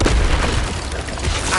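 Confringo fire spell blasting in Hogwarts Legacy, a loud, close explosive boom with crackling bursts filling the short moment, dense and powerful throughout.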